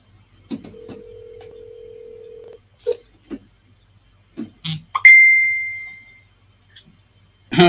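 A telephone plays a sequence of electronic tones, a long steady tone then a higher beep, interspersed with short clicks and brief keypad-like pips, fairly loud and close with no talking.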